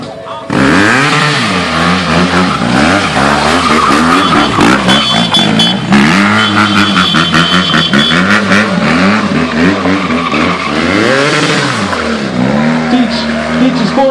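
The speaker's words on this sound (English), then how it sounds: "when you can pull the clutch in and stay in a wheelie" A GS motorcycle engine revs loud and close as the rider holds a wheelie on the clutch, its pitch rising and falling in sustained waves, with voices faintly audible underneath.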